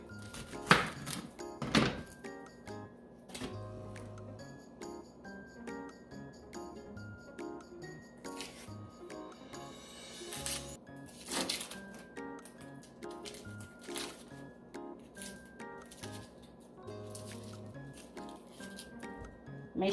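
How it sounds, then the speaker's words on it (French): An onion being chopped for green fried rice: scattered, irregular knife thunks on a board, close and fairly soft, with quiet background music running underneath. "Je vais apprêter mon oignon."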